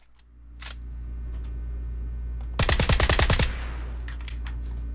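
Burst of rapid automatic gunfire in PUBG, about a dozen sharp close shots in under a second, set against a steady low hum with a couple of faint isolated clicks before and after.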